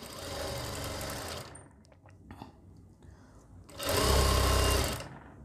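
A sewing machine stitches the lining of a kameez in two loud bursts of fast steady whirring, close by, with a quieter pause of small handling noises between runs.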